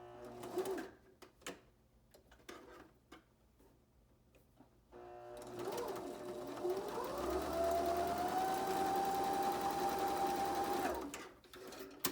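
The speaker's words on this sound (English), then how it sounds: "now we're gonna top stitch that same edge that you just ironed in with a straight stitch" A sewing machine runs a straight top stitch along the ironed edge of a fabric face mask. It starts after a few light handling taps and then hums steadily and fairly close for about six seconds before stopping.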